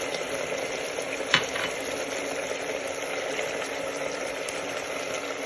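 Crushed chillies and ground pickle spices fry in oil for an achar gosht, a dense, even sizzle close up with one sharp tap of a spoon partway through, and no speech.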